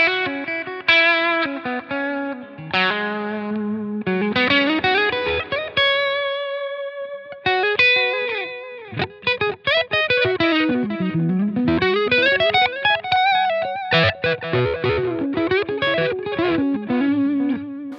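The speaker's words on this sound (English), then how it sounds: "There's still a dab of reverb on it, but now the delay takes over and gives us our ambient." Electric guitar played through a Line 6 Helix with delay and reverb: picked notes and arpeggiated runs ring out with lush repeating echoes and a wash of ambient tail, loud and continuous throughout.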